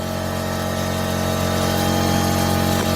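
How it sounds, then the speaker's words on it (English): An old Saab, sat in a garage for thirty years, idles with a torn exhaust, giving a steady, loud, continuous rumble with a droning hum and no break or talk throughout. "A torn exhaust."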